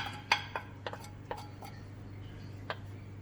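A spoon clinks against a pan while half a baguette of bread is stirred into vegan tomato stuffing, a few sharp scattered taps over a low steady hum.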